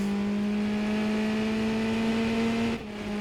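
A Formula 3 race car at Imola in a racing video game accelerates hard out of a corner, its engine a loud, steady high-pitched whine that drops abruptly near the end.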